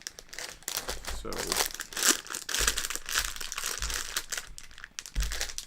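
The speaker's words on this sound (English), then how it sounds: "hopefully the crinkling of the wrappers here isn't too terrible coming through on the mic" Plastic wrappers around Lego pieces crinkle and rustle up close in irregular bursts while a person talks briefly.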